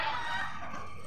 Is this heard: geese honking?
yes